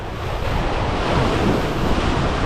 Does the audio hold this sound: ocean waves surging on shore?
yes